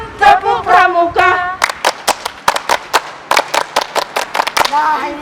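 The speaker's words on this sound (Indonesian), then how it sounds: "Marilah kawan-kawan kita bertepuk tangan, tepuk tangan, tepuk pramuka." A group at a scout leadership training session chants a short call, then claps in sharp, patterned bursts of scout-style rhythmic clapping, loud and close, with voices chanting between the claps.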